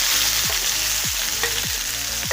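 Ginger garlic paste and onion fry in hot oil for a prawn roast, a steady loud sizzle with repeated scraping stirs roughly every half second, close up and with no voices.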